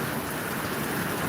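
First rain of the season falling in Gboko, Nigeria, a dense, steady patter of raindrops on surfaces, loud and close, with no voices over it.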